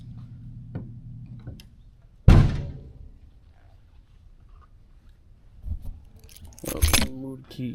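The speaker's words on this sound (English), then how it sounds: "Move the keys so we don't hit the paint." A sharp metallic clatter followed by brief jingling of keys, with soft knocks and handling noises before and after in a quiet space.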